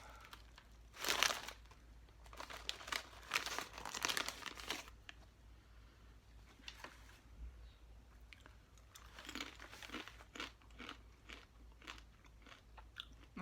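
A snack bag from a care package from New Zealand is opened carefully without being fully torn. Loud crinkling bursts of plastic packaging come close up in uneven clusters, with crunchy bites and chewing between them.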